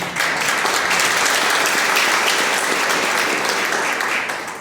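A congregation gives a dense, sustained round of applause after a talk on the Eucharist, a steady wash of many hands clapping at even loudness that fades slightly at the end.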